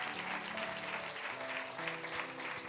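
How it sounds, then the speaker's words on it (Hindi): Faint, steady applause from an audience at an evening church worship session, continuing evenly throughout without breaks. "ताली बजाएंगे एक दूसरे के लिए।"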